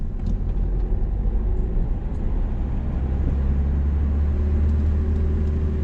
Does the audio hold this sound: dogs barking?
no